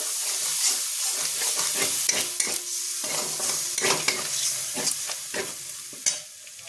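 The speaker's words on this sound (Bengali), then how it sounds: "এবার এর উপরে আমি টক দইটা পুরোটা দিয়ে দিলাম এর সাথে নাড়াচাড়া করে নেবো" Whisked yogurt being stirred into frying cauliflower masala in a pan: continuous sizzling with repeated scraping and stirring strokes, close and fairly loud, with no talking.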